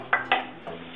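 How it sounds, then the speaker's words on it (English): Bacon goes into a pan for carbonara: two quick metallic clinks of utensil against pan, then a softer scrape, close and fairly quiet with no speech. "And now we are going to add the bacon."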